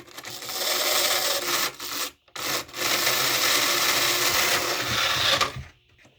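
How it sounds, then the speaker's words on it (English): Hornby Class 37 model locomotive, somewhat dirty, with its motor running in place: a close, raspy whirring buzz that cuts out briefly twice partway through and then stops near the end. "if I were just to run her in place, just listen to how her motor runs"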